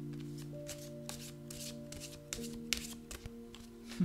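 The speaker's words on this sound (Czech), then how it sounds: "jdu si zamíchat karty" Tarot cards are shuffled by hand at close range, giving soft riffling and tapping bursts over a faint steady electrical hum, quiet overall.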